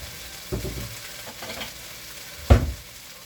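Fried rice frying in a pan, with a steady sizzle underneath and a few stirring scrapes, one sharper knock near the end, no talking.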